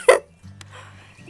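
A single sharp, close dog bark, followed by a low murmur of background noise.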